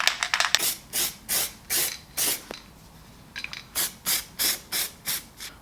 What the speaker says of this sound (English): I'm going to give it a quick coat of some zinc spray to stop the rusting